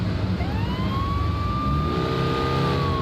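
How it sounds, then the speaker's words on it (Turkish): Simulated police siren from a Renault Clio police car in an Android driving simulator game, a steady rising and falling wail over a constant engine drone. "Tabii ki hız testi sirensiz olmaz."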